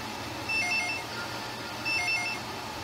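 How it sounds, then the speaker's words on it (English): A telephone rings in the video game Dragon Ball Z: Legacy of Goku, two short chiptune trilling rings about a second and a half apart over a faint background hum. "The phone is ringing."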